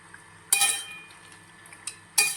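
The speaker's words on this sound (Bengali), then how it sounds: "টমেটোগুলো সব দিয়ে দিলাম, দিয়ে একটু নাড়াচাড়া করে নিচ্ছি" Tomatoes being stirred into mutton curry in a pan: three separate metallic scrapes and clinks of a utensil against the pan, the first and last sharper, with quiet gaps between.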